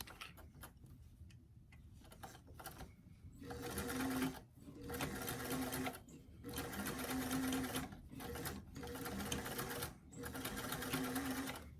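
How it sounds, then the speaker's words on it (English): A sewing machine runs in several steady bursts of rapid stitching, separated by short pauses, with quieter handling sounds at the start. "we're going to take that back to the sewing machine and just do the top stitching"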